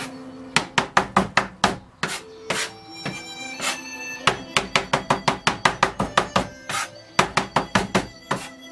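A knife chops carrot on a board for coleslaw in quick, steady rhythmic thuds, loud and close, with a few brief pauses between runs of cuts.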